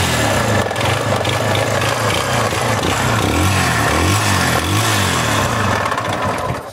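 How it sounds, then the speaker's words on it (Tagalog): A noisy, worn Barako 175 motorcycle engine neglected on oil runs close up, a loud, rough, uneven chugging with wavering pitch and a metallic clatter throughout. "Ito na mga bro yung Barako na sobrang ingay."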